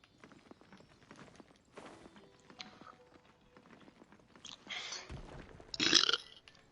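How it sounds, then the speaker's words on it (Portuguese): A person lets out a single loud burp near the end, after a stretch of quieter shuffling and clicking noises. "Arrotei."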